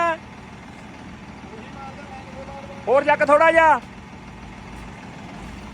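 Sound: tractor engine idling while being positioned

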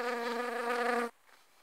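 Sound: bee buzzing

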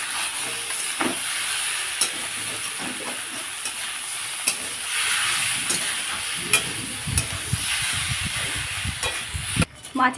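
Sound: stirring boiled vegetables into frying fish oil

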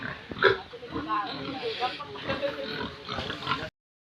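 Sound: pigs grunting

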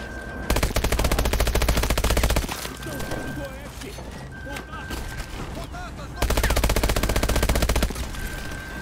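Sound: gunfire from a video game rifle (Call of Duty: Advanced Warfare)

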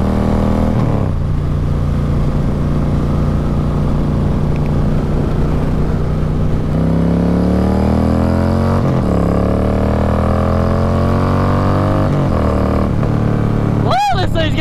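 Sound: Harley-Davidson Road King motorcycle engine while riding

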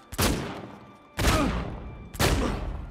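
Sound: gunfire from the video game Uncharted 4 multiplayer

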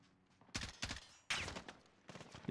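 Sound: gunfire in Call of Duty Verdansk video game

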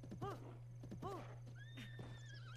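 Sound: horse neighing in The Legend of Zelda: Breath of the Wild video game

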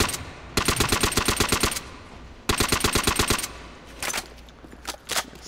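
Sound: gunfire from a video game gun

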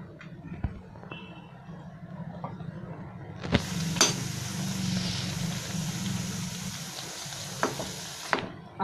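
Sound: pea pod peels (sal bhaji) frying in a pan

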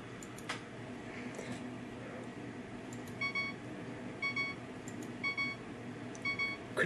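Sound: Windows system notification sounds

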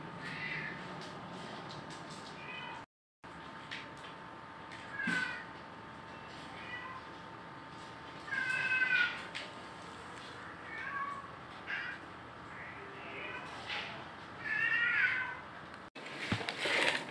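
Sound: Sphynx cat meowing

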